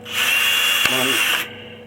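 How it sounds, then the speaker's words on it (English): A small, thin drill whines steadily for over a second close by, its pitch briefly dipping as it bites, then stops abruptly, while building a Sopwith Camel model fuselage. "It's a little thin drill."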